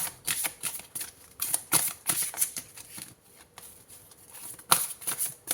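Deck of tarot cards being cut and shuffled by hand, giving repeated close, crisp papery riffles and slaps in uneven bursts with a brief lull in the middle, no voices.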